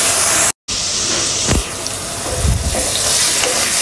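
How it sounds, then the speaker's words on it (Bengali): Onions frying lightly in a pan for a village-style home-cooked dish, giving a steady loud sizzle with a brief dropout and a few stirring scrapes. "তো পেঁয়াজটা ভেজে নেই হালকা"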